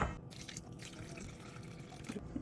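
A quiet, steady trickle of water pouring into a baking dish of stuffed peppers, soft and continuous with faint splashes, close by and without speech.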